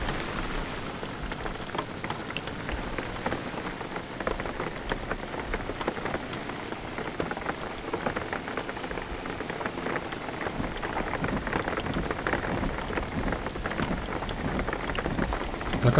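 Heavy rain patters steadily on surfaces during a storm in the driving game Jalopy, a dense continuous downpour with faint distant rumbling thunder and no voices.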